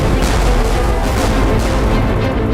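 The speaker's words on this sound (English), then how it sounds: "The battle is joined at 11:30 AM as the British vanguard opens fire." British warships opening fire in a naval battle off Cape St. Vincent make a dense, continuous roar of cannon fire, with repeated booms blending into a loud, rolling barrage.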